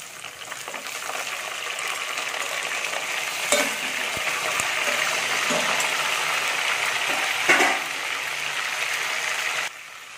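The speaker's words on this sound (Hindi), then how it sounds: "तो भी आप लोग देख सकते हैं कि हमने इसमें अपना गोश्त भी ऐड कर लिया है।" Meat for chana dal gosht fries among golden brown onions in a pan, giving a steady, loud sizzle with a couple of brief stirring scrapes and clatters.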